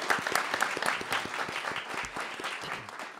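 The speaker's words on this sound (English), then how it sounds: "Let's give them another round of applause." A seated audience at a media panel discussion gives a steady round of applause, dense crisp clapping that stays even and fairly loud for the whole stretch with no voices over it.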